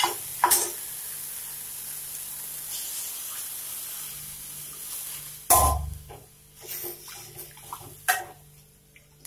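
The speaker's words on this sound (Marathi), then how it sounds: "आता यामध्ये आपण पाणी टाकून घेऊ." Water poured into frying masala for cut vada curry gives a loud rushing splash and hiss mid-way, followed by uneven bubbling and a few further splashes, close by and with no talk.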